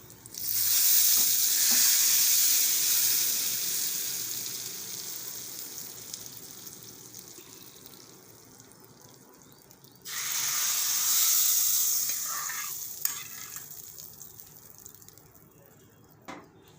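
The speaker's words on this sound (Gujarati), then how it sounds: "હવે આપણે આમાં વઘાર કરી લેવું" Spices for dal sizzle loudly in hot oil, a bright steady crackle that gradually fades, then flares up again when more goes in.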